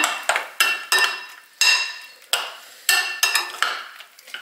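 A utensil stirs a matzo brei mixture in a bowl, giving sharp, ringing clinks against the sides at an uneven pace, about a dozen strikes, close and clear with nothing else heard.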